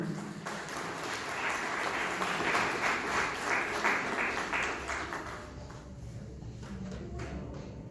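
Sustained applause fills a hall at a railway week award ceremony, a dense, steady mass of clapping from a seated crowd that softens slightly toward the end.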